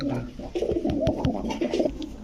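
Giribaz high-flyer pigeons offered for sale coo in low, throaty murmurs close by, several overlapping calls running throughout, with a few sharp clicks and faint background voices.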